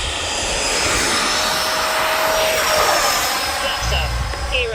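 Freewing F-15 radio-controlled jet with 90 mm ducted fans spooling up for takeoff, flaps at 50, a loud steady turbine-like roar with a rising whine held throughout, with a voice talking over it.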